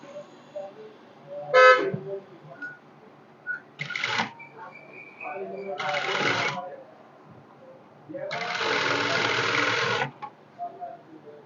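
A sewing machine top-stitches the sleeve of a netted blouse in four separate runs of close, steady whirring stitching. The first runs are short, the last lasts about two seconds, and quiet pauses fall between them.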